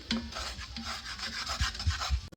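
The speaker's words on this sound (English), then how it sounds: "Make sure while you're stirring this that you're scraping up the brown bits." A utensil stirs and scrapes the bottom of a pot of melting butter with onions, celery and garlic, a steady close rasping rub with a few low thumps near the end, no voices.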